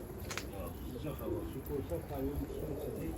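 Pigeons coo on a rooftop in soft, repeated low calls with a brief chirp early on, while a person talks faintly over wind in the background.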